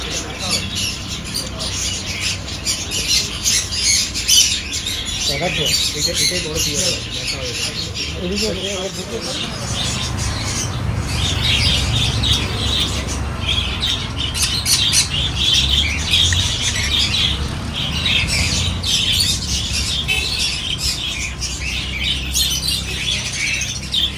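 Birds squawk and chirp in sharp, repeated bursts amid busy background chatter from people nearby.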